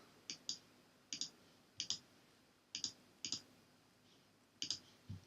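Crisp double clicks of a computer mouse, repeated about six times at irregular intervals, close and clear over a quiet background.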